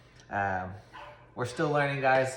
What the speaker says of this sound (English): Sorry if you hear my dog barking in the background